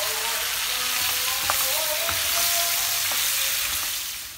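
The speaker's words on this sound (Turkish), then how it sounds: "Isınmış ve ciğerlerimi atıyorum. Yavaş yavaş karıştırıyorum." Beef liver pieces fry in a hot pan with a dense, steady sizzle, while a spatula stirs slowly and taps the pan now and then.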